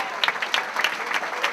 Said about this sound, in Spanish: Ese aplauso para Antonio Gabor.